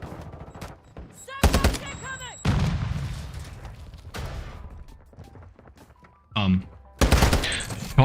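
Loud shotgun blasts in a video game match come in sharp separate bursts with quieter gaps between them. Clicking and mechanical game sounds and a voice speaking are heard in between.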